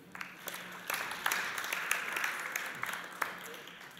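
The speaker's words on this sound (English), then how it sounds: "A round of applause for him" Applause from a conference audience welcoming an Ecuadorian environment official, a soft, steady patter of many hands with a few sharper claps, held at moderate distance for about four seconds.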